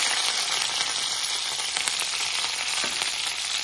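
Curry leaves and fennel seeds splutter and crackle in hot oil, a dense steady sizzle with scattered sharp pops running throughout, close and fairly loud with no talking.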